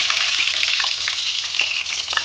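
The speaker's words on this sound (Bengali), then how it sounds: "এবার আমি এই আলুগুলো দিয়ে ভেজে নেব।" Potatoes tipped into hot oil with white cumin seeds fry with a dense, continuous crackling sizzle, close and fairly loud throughout.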